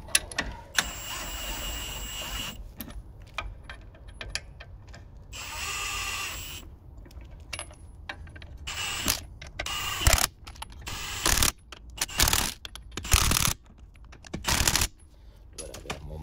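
A torque wrench tightens a handbrake adjustment, clicking and ratcheting in short bursts with metallic clacks. Quieter mechanical rattles come between the louder strokes, close up.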